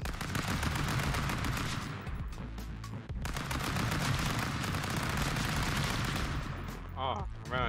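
Rapid gunfire in the video game Stick Fight: The Game, loud continuous bursts filling nearly the whole stretch with a brief pause partway, and a voice near the end.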